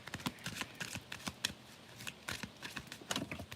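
Oracle cards being shuffled by hand during a tarot reading, a rapid run of crisp riffling flicks and taps, close and fairly quiet with no talking.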